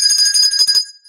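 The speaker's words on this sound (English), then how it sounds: "You'll keep on ringing that bell and you'll get two lumps." A small bell rings with a bright, sustained metallic tone, struck in quick repeated shakes that stop after a moment and leave a short fading ring.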